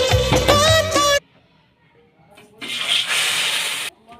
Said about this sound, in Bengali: হালকা গরম জল ধুয়ে নেবো মাছটা।